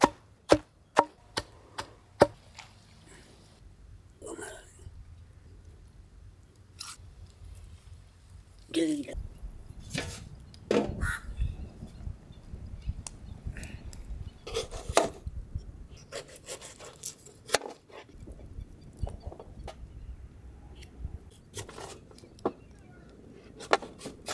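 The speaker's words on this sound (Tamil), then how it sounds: "மீன் அவியலுக்கு நைய நறுக்கு தான் அடிக்கணுமுக்கா." A knife taps sharply on a cutting board, chopping onions and green chillies in quick irregular bursts, close by, with quieter scraping and handling noises between the chops.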